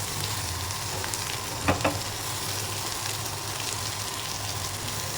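Prawns, onion and tomato sizzle steadily in hot oil as they are stirred, a continuous close frying crackle with two brief louder scrapes of the spoon midway.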